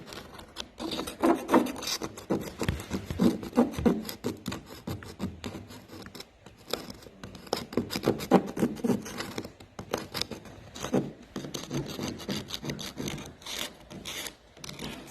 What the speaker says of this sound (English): Scraping sound.